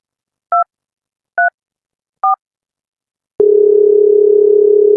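Three short two-tone keypad beeps spaced about a second apart as a telephone number is dialed, followed by a steady continuous tone, with no talking.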